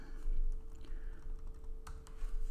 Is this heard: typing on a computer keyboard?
yes